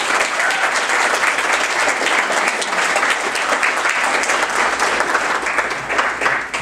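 An audience at a choir banquet breaks into sustained applause, a dense, steady wash of clapping from many hands that stays loud and continuous throughout, with no voices rising above it.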